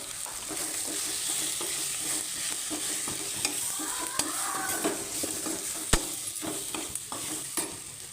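Ground cumin and coriander powder sizzle in a pan over low heat, stirred with a spoon that scrapes and taps the metal now and then, steady and close.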